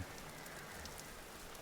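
Steady rain falling in the video game Vintage Story, a dense, even hiss of drops at moderate level with no talk over it.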